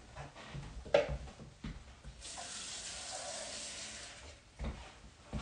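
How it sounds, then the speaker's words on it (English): A kitchen tap runs into a pot while potato leek soup is being cooked. A steady, close gush of water lasts a couple of seconds between soft knocks and clatters of handling. "add a little bit more water"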